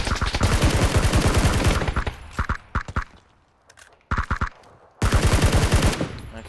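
PUBG gunfire in rapid automatic bursts, loud and close, with long rattling volleys at the start and end and shorter clusters of single shots in between.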